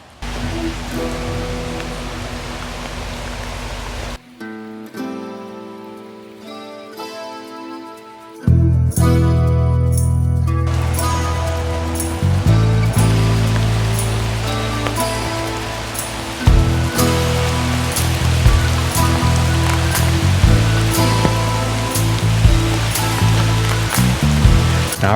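Broadband rushing water of a river near a campsite along Historic Highway 26, steady and loud through most of the stretch, briefly dropping away before returning in a continuous roar.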